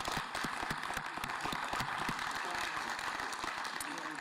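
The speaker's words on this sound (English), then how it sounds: "Please join me in a round of applause for their extraordinary work." An outdoor crowd applauds at the grand reopening of Finlay Park in Columbia, a fairly faint, steady patter of many hands clapping with occasional louder claps and some background voices.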